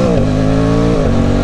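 An Aprilia Tuono 660 Factory engine hums steadily while being ridden, holding a close, loud, even tone with a slight shift in pitch partway through.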